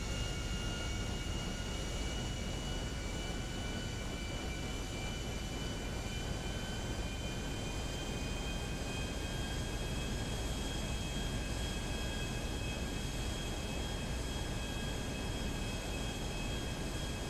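A fixed-wing airliner taxis toward the runway in the GTA 5 video game, its engines giving a steady, even whine and rumble with high tonal lines held throughout and no talk over it.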